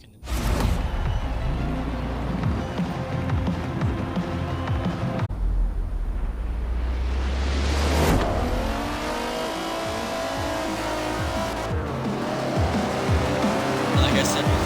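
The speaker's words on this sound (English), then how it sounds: "It shares the detuned engine from the McLaren F1." A BMW 850CSi with a detuned McLaren F1 engine roaring and revving in the Forza Horizon 4 racing game, loud and continuous, with gear shifts, rising and falling pitch and brief tire noise.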